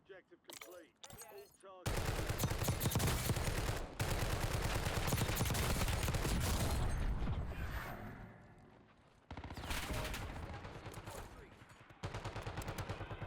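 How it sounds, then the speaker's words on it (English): Automatic and single gunfire in Call of Duty: Warzone, with loud dense bursts of rapid shots and booming impacts near an airstrike, broken by short gaps and a quieter stretch, with brief talk at the start. "we're going to be looking at gunfire as it comes at us"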